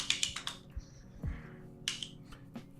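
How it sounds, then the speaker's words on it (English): Cherry MX key switches on a keyboard being pressed, a series of crisp, sharp clicks and taps in quick irregular bursts, close and alone in a quiet room. "here's the key switch test"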